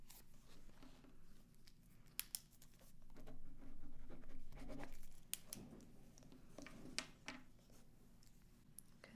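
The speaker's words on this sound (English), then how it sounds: "Let me write that down." Pen scratching across a notepad in a quiet room, soft close strokes and small taps that come in uneven bursts.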